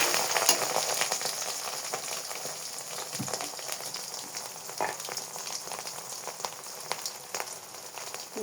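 Chopped garlic sizzles and crackles steadily in hot oil for a chili pickle, a dense continuous frying hiss with small pops, close and alone.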